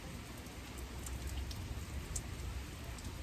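Rain falling outside with wind under dark storm clouds, a soft steady hiss of drops with scattered faint patters, fairly quiet and continuous, no talking.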